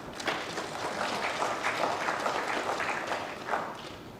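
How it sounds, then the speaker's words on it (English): An audience claps for the President at a presidential pardon ceremony for inmates at Kuje Custodial Centre in Abuja, producing a steady, moderate patter of many hands that holds evenly throughout. "Please clap for the President."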